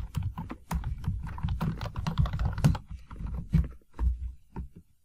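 Keys clack rapidly and unevenly on a computer keyboard during a Python programming lesson, a close burst of typing with brief pauses between runs of keystrokes.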